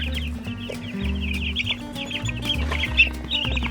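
Baby chicks on a miniature goat farm chirp continuously, a dense chorus of high peeps close by over a low steady background hum.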